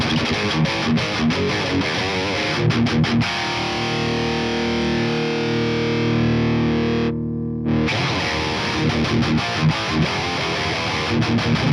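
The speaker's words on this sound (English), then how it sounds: "the brown sugar with the Schottky diode straight up is the best sound when it comes to really pushing that amplifier forward" A heavily distorted electric guitar runs through the Bogren Digital S_Zero 93 amp plugin with the overdrive's Schottky diode setting, playing loud, tight, chugging metal riffs with a brief sustained chord and a short gap mid-phrase.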